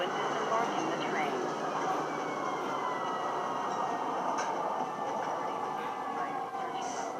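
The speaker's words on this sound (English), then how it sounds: "Please watch your step when disembarking the train." In Star Citizen, a train pulls into a spaceport station with a continuous rushing, rumbling hum and faint metallic squeals, heard steadily at moderate level.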